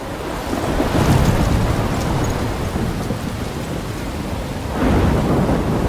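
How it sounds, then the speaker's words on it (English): Thunderstorm in the Life is Strange video game: steady roaring rain and wind with a deep rolling rumble of thunder swelling near the end, loud and unbroken, no voices. "I'm trapped in a storm?"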